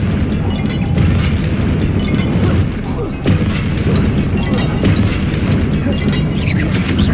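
Confringo blasting spells erupt in a Hogwarts Legacy fight, with loud, dense rumbling explosions and crashing debris filling the scene almost continuously, one brief dip before the blasts roll on.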